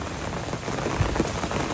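Steady rain falls on a surface in a rural village during the monsoon, a dense even patter close by with no voices, lasting under two seconds.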